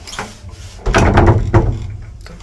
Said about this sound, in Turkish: Kapıyı bir çekelim. Evet kapıyı kapatalım.